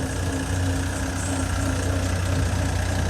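A tractor engine idles at a soil-service gathering in Dera Baba Nanak, a steady close rumble with an even mechanical hum that holds unchanged throughout, with no voices.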